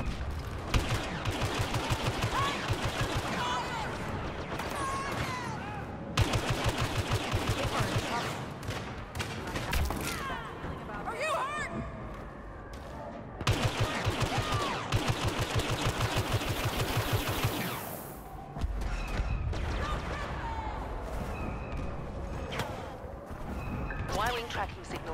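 Sustained blaster fire in Star Wars Battlefront, bursts of rapid shots and battle noise continuing across the whole stretch with brief lulls, a voice talking at times beneath the din.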